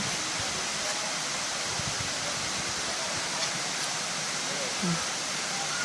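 Steady broadband rush of falling water at Seven Wells Waterfall in Langkawi, constant and fairly near, with faint voices of bathers in the background.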